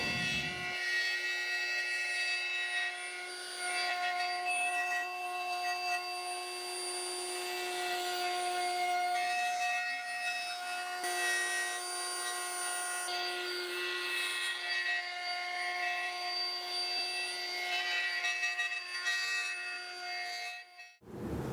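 A router cuts a juice groove into a wooden cutting board, a steady high whine with a rough rasping tone that holds for about twenty seconds before cutting off abruptly.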